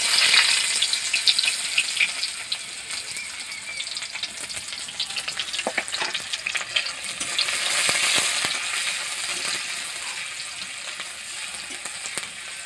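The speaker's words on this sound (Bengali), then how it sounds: "আমি প্রথমে পেঁয়াজগুলো ভেজে নেব," Onions fry in ghee for a village-style egg korma, crackling and sizzling steadily up close, with occasional stirring scrapes.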